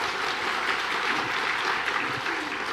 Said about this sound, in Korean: 우리 주님께 영광의 박수 한번 하겠습니다